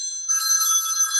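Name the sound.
telephone bell ringing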